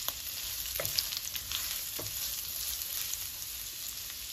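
Carrots frying in a pan with garlic for chicken and vegetable chow mein, a steady close sizzle with a few stirring scrapes and spatula clicks, no talk.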